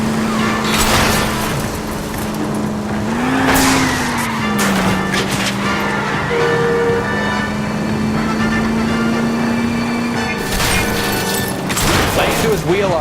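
A stolen green Kaiser Frazer is chased through city streets in the video game L.A. Noire, engines droning loudly and steadily with a shifting pitch, tyre squeals and sharp impacts breaking through, and voices talking over the roar.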